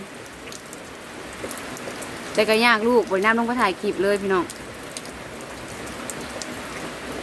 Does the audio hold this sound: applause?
no